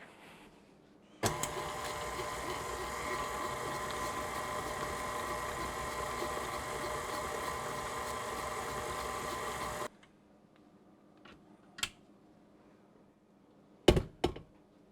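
An electric mixer whirs steadily and loudly for about nine seconds while beating lemon cheesecake cookie batter, then stops, followed by a few soft clunks and taps.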